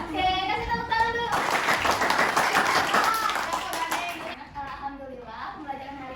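A group of children clapping in a classroom, a burst of handclaps in the middle with young voices talking before and after.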